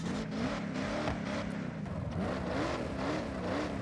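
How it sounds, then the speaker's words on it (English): Rear-wheel-drive V8 car in Forza Horizon, its engine humming and revving in a continuous loud drone with wavering pitch. "Sounds like a V8 to me already in there."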